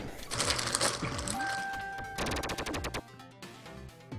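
In the video game Duck Game, a gun fires in rapid bursts of repeated shots, loud and rattling, mixed with other game effects and brief voices.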